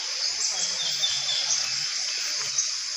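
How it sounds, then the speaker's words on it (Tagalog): Birds chirping outdoors near a house, high twittering calls scattered over a steady insect-like hiss, with faint low voices murmuring underneath. "Talagang mga huni lang ng ibon ang naririnig mo rito."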